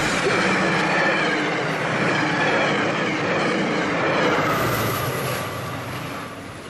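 A commuter train blows through a station on the Route 128 line at rush hour without stopping, a close, loud, steady rumble of wheels and carriages that fades slightly toward the end.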